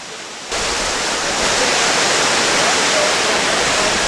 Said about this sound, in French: Apparemment, c'est une des plus grandes cascades du parc,